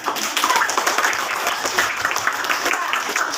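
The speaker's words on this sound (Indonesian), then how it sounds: "Berarti aplaus untuk kita karena kita benar." Students in a third-grade classroom clap together in steady, dense applause that fills the room at a constant level for a few seconds, with no voices breaking through.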